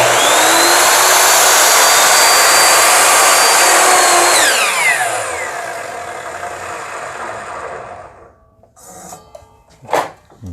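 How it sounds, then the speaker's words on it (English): A power saw swiveled to a 45-degree angle cuts loudly and steadily for about four seconds, then winds down with a falling whine, followed by a few faint knocks and a brief clatter. "I have to swivel my saw around to this 45-degree angle, butt it up right here and hold it in place, and then I'll make this cut here."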